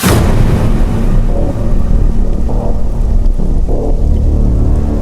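Heavy rain falls at night in a Rajasthan setting. It makes a loud, dense, continuous roar with no pauses, and the background carries a low rumble. No one speaks.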